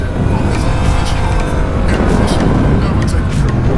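A loud motorbike engine revs hard and pulls forward without letup, rising and falling as it accelerates over a continuous rush of wind.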